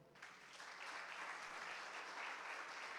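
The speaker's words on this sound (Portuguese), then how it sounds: "Aplauda o Senhor." Congregation applauding during a church service, a steady sustained wash of clapping that swells quickly and holds loud and even throughout, with no talking.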